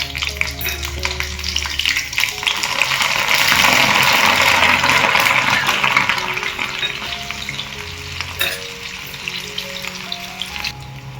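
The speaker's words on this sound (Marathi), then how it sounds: "इथे बघा आपण आता भज्याबरोबर खायला मिरची पण तळून घ्यायची आहे" Green chillies deep frying in hot oil for corn bhaji, a steady bubbling sizzle that swells louder in the middle, with faint clinks of a utensil now and then.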